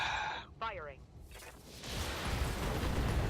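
Weapons fire in the BattleTech Flashpoint mech combat game, a loud burst of booming shots and rumbling impacts that swells and stays dense to the end, with a brief radio voice near the start.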